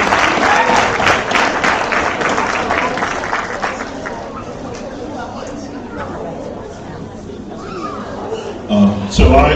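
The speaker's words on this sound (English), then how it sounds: "let's give a big round of applause once more for physics and computer science program" Audience applause at a Dean's List award ceremony for a school of science, health and technology, a loud, dense clapping crowd with chatter that thins out over several seconds, then a brief burst of noise near the end.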